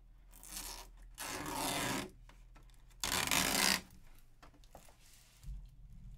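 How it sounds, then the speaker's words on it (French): Two long ripping peels of protective plastic film tear loudly off a 1/8 scale RC car body in separate bursts, with quieter rustling and handling noises between them. "Allez, on enlève le film, les gars."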